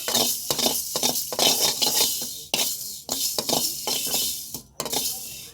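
A spoonful of fenugreek seeds fries lightly in a pan for a red chili pickle, with a soft sizzle under repeated scraping and clinking of a spoon stirring against the metal.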